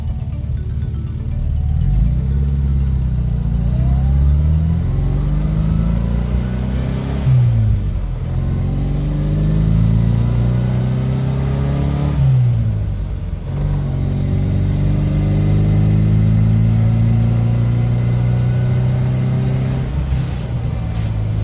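A classic Mini's engine running and being driven, a loud close drone that rises and falls through several revving sweeps as it accelerates and shifts, with no talking over it.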